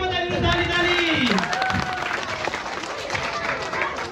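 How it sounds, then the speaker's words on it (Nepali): Guests clap along at a birthday party right after the birthday song, a dense burst of hand applause with voices mixed in at the start, fading to steady, scattered clapping. "ताली बजाइदिनु ताली ताली"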